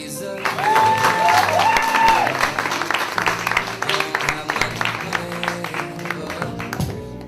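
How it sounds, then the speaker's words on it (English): An audience at a stand-up comedy show at the Camino Real Playhouse claps loudly and steadily, with a brief whistle near the start before the applause thins out. "Big round of applause for Miss Allison Ehret."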